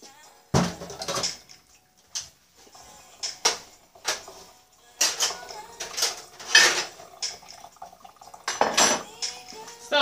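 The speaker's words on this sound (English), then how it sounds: "Take this pan off." A pan comes off the stove after searing cod, with loud close clanks and scrapes of cookware and utensils in irregular bursts, faint talk intermittently underneath.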